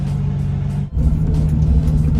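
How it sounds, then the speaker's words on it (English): A Nissan 370Z being driven out of a driveway while being checked for an EVAP system leak code: a close, steady low engine rumble with a brief dip before it picks up again. "pulling out the driveway. Gonna take this car for like an hour drive"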